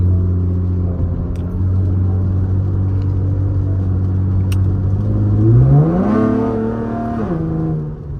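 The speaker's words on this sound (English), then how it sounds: "Little slight fourth gear pull." A 5th gen Chevrolet Camaro V6 with a muffler delete drones steadily while cruising, then its raspy exhaust note climbs as it pulls in fourth gear and eases off, loud and close from inside the car.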